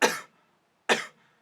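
Two sharp, close coughs from a person, spaced nearly a second apart, each a short harsh burst followed by silence.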